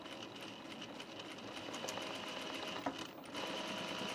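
A sewing machine stitches a welt on an unlined auburn blazer, whirring in a steady, fairly quiet rapid patter with brief pauses and small clicks near the end.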